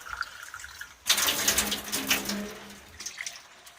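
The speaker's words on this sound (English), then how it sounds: "so I can use it from the tap." A kitchen tap is turned on and water pours steadily, starting abruptly after a quiet moment and running loud and close.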